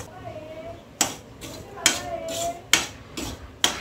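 A spoon stirs semolina roasting in a pan, producing sharp scraping knocks that repeat roughly every second, five in a row, with quiet sizzle-like noise between them.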